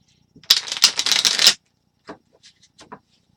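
A quick riffle of tarot cards being shuffled, about a second long and close, followed by a few soft taps and handling sounds.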